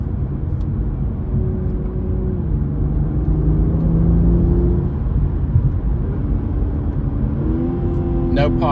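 A Toyota GR Supra with a cold start exhaust mod idles in normal mode. It gives a steady, loud low rumble with a slight rise in revs midway, and someone talks over it.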